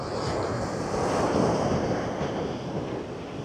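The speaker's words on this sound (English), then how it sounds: "So calming, isn't it, listening to the waves." Big ocean surf rolls onto a beach on Sydney's ocean front, a continuous broad wash of breaking water mixed with gusty wind buffeting the microphone.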